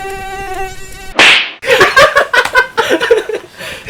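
A mosquito's high, thin whine hovers for about a second, then a sharp slap cuts it off and laughing voices follow.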